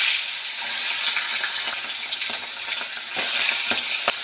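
Pomfret fish fry in hot oil with a close, continuous sizzle, broken by scattered sharp pops and crackles throughout, and no voices.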